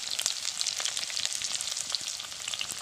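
Onions frying in hot oil with turmeric stirred in, a steady close sizzle and crackle with small spitting pops throughout.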